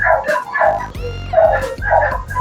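A dog barks and yips in short bursts, loud and close, with a whimpering tone between the barks.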